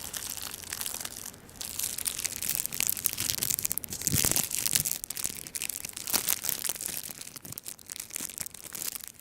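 Crinkly paper is unwrapped from around a small squishy toy, a dense, continuous crackle of crumpling and tearing that swells louder near the middle and keeps rustling close up without any talk.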